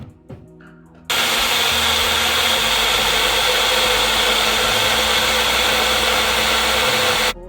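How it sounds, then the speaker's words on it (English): A magic blender whirs loudly and steadily for about six seconds while blending a fruit and milk smoothie, beginning abruptly after a brief quieter moment and cutting off sharply at the end. "I'm using the magic blender to blend it."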